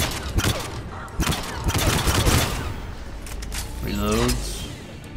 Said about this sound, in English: Hey, who's firing at me?